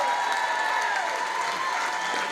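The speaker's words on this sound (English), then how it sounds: "massive round of applause? Come on." A theatre crowd at a Stars In Their Eyes charity show for Air Ambulance NI bursts into loud, sustained applause with cheers, a dense roar of clapping filling the hall.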